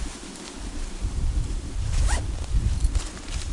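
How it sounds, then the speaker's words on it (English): A zipper slides along a DD Hammocks Jura 2 sleeping bag hung in a hammock, a quick close zip with soft fabric rustle around it, near and fairly quiet. "Then you can zip it up even further if you so choose"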